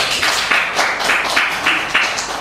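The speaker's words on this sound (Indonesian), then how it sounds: "Mohon tepuk tangan untuk Pak Abidin" Audience applause at a legal seminar on election logistics oversight, a steady rolling wash of many hands clapping at moderate volume with gentle surges, and no voices over it.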